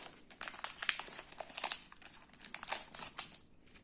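Foil booster pack of Pokémon cards being torn and opened close up: dense, crackling crinkles in quick irregular bursts, with a few sharper tearing rips, fairly quiet with no talking.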